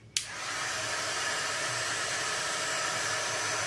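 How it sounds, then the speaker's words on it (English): A heat gun clicks on and then blows a steady, loud hiss of hot air to shrink plastic for a craft project, the sound holding constant after the switch-on with no voices. "I will shrink the plastic using the heat gun"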